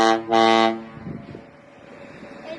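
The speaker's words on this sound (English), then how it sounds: "Get ready, they're gonna honk again." A big boat horn blasts twice in quick succession at Wisconsin Point, loud and close, followed by faint background murmur.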